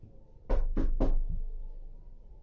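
Three quick, loud knocks on a door in a steady rhythm, the last one fading, with no other sounds close by.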